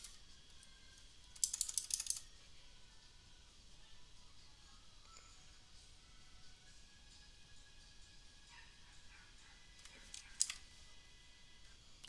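Brief bursts of keyboard typing while entering settings during a Windows Server 2016 iSNS setup, two short clusters of clicks separated by a long quiet stretch, faint and close.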